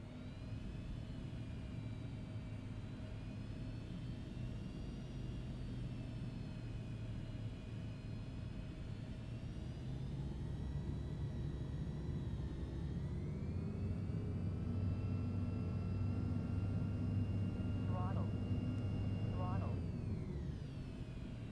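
Embraer E190 jet in the Prepar3D flight simulator, a steady engine whine and low rumble that rise in pitch and power partway through the takeoff roll, with radio chatter and talking heard over the engine noise.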